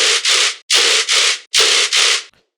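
Dubstep bass synth preset built from noise run through a vocoder, firing as loud, bright, gritty bursts in three paired stabs with short gaps between them.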